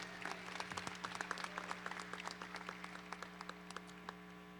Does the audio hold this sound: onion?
no